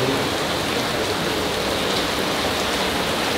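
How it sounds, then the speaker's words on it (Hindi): A heavy monsoon-style downpour roars without pause, a dense, loud, even wash of rain with no voices over it. "और बारिश ने लिया है एक नया मोड़, धुआंधार बारिश"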